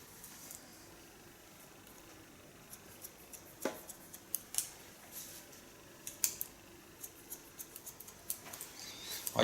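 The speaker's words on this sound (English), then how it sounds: "because where the hairs are thin, you have to cut." Scissors cut a man's longer hair at close range, making faint, scattered metallic snips in irregular bursts over a quiet background.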